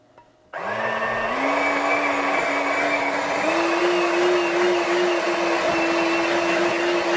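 An electric mixer whirs to life and runs steadily, beating butter, sugar and eggs for a vanilla butter cake; a close, loud motor drone with a tone that rises slightly as the batter loosens.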